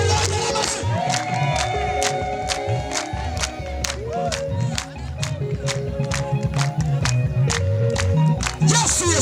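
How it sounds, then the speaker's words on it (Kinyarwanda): A church congregation at a worship service applauding and cheering, loud rhythmic clapping in a steady beat with crowd shouts and voices mixed in throughout, close and energetic. "Tuyongera amashyi"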